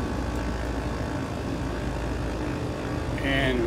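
Left engine of a propeller aircraft in Microsoft Flight Simulator, flying in the Caribbean at Grenada, a steady droning hum with a rising whine near the end as the engine spins up, no talk.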